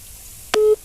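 Telephone tone after a call drops: one short, clear electronic beep that cuts in suddenly and stops after a fraction of a second, over faint background hiss.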